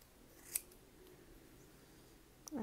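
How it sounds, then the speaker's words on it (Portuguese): Scissors snipping the yarn loops of a large knitted basket with an MDF base: two sharp, quiet clicks, one near the start and one at the end, over a faint room hush. "vai passar a tesoura e vai fazer assim"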